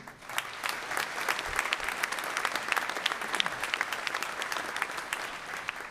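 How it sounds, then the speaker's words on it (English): An audience at a graduation ceremony claps steadily, a dense, even applause that holds at the same level from start to finish. "So please give a round of applause for the foundation"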